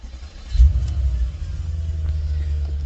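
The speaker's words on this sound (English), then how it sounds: "so we'll start the car." An Audi S5 engine turns over and catches, settling into a steady low idle rumble that continues close by.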